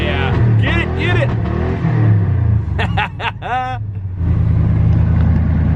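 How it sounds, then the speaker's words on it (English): A truck's engine cold-starts and bounces off the rev limiter, its low rumble rising and falling in bursts while several people talk loudly over it nearby. "she'll do a cold start, bounce off the rev limiter"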